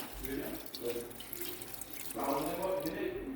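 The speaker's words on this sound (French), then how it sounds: "je vais commencer par rajouter de l'eau" Water runs from a tap into a pot of vegetables, a steady close pouring and splashing wash that swells louder in its second half, with no one speaking.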